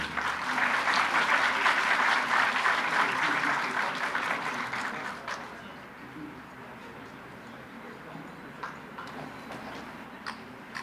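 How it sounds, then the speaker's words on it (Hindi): A crowd applauds at a university medal ceremony in Peshawar, loud dense clapping for the first several seconds that fades to scattered claps, leaving a quiet room with faint background murmur. "बहुत सारी तालियां होनी चाहिए।"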